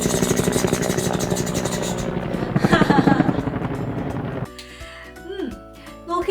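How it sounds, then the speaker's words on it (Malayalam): A helicopter's rotor chop pulses rhythmically over a droning engine tone before fading into quieter, more scattered sound with a voice near the end. "ഹെലികോപ്റ്ററിന്റെ ശബ്ദം ഒന്ന് കാണിച്ച്."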